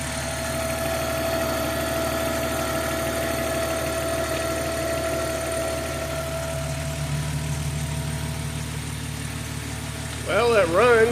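A turbocharged BMW E46 engine idles steadily and evenly for the whole stretch, a close, constant hum that holds without revving, with a brief louder burst of other sound right at the end.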